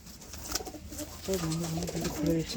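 Pigeons, including a white high-flyer, coo in a few low repeated phrases close by, with soft rustling and restless wing movement around them.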